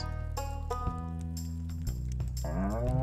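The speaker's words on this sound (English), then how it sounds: "we're gonna go ahead and we're gonna purchase a cow" A cow in the farming video game Stardew Valley lets out a long, loud moo that rises at the end, heard over continuous game background music.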